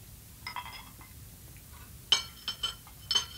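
Wine glasses clink softly at a dinner table as wine is poured and served, a handful of light, bright taps spread out and somewhat distant against quiet room tone.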